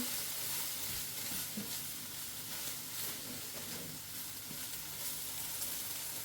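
Onions, peppers and garlic sizzle steadily in a very hot pan on a stovetop, a continuous broad crackle with occasional stirring clinks, close and fairly quiet with no talk.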